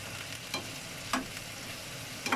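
Vegetables for pinakbet are stirred in a hot pan under a steady low sizzle, with three brief scraping strokes of the spoon spaced about half a second apart.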